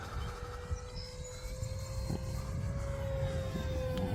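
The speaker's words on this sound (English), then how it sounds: "This airplane is so much fun to fly" Small airplane flying inverted at about half throttle, a faint steady engine drone with a sustained tone over low wind rumble, gradually swelling slightly.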